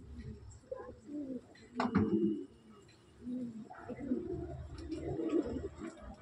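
Pigeons released under open sky coo and flutter about close by, with a burst of wing flapping near the two-second mark and steady low cooing throughout.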